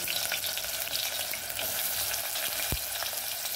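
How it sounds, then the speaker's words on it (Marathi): Onion fries in plenty of oil with a dense, continuous close-up sizzle that stays loud and even throughout, plus a brief knock near the end. "आणि कांदा टाकून घ्यायला लागले"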